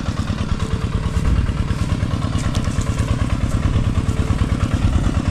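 A motor engine on a boat runs steadily and loudly throughout, with a rapid rhythmic chugging and some rattling clatter, close by.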